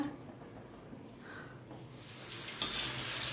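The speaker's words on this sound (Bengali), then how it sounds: "খুব সুন্দর ফুলেছে, ফুলকো लूची হচ্ছে এখানে।" Luchi frying and puffing up in hot oil, a soft crackling sizzle that swells louder and brighter toward the end, close by with no one talking.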